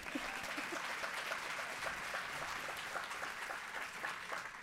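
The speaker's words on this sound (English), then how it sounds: "another round of applause is fine" An audience applauds at a lecture event. Faint, dense clapping holds at an even level throughout and sounds distant, with no clear speech.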